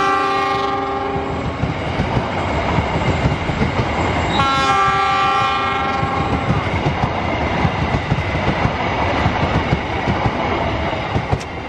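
A double-locomotive train passes close by and sounds a loud, sustained horn twice over the heavy rumble and clatter of wheels on rails, with no talking.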